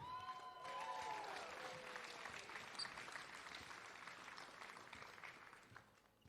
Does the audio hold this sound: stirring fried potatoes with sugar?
no